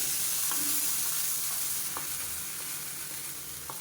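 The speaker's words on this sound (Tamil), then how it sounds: "இப்போ இந்த தாளித்த கடுகு சீரகம் வரமிளகாயை மோர் குழம்புல சேர்த்துக்கலாம்" A hot tempering of mustard seeds, cumin and dried chillies is added to a mango buttermilk curry, giving a soft, even sizzling hiss with a few light taps and stirs.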